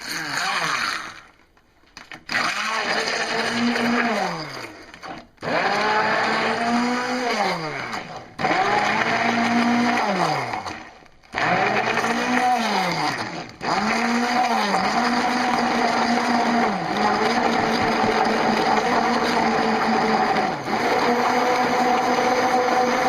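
A stick blender whirs loudly in several long bursts, its motor pitch dipping and rising as it churns thick gel, with brief pauses between runs.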